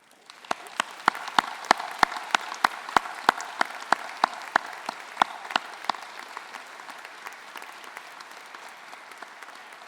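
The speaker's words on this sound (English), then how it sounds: "join me in a round of applause to say thank you to all those who have helped you and supported" A graduation audience in a large hall applauds, a broad even wash of clapping with some distinct nearby claps standing out in a regular beat, tapering off toward the end.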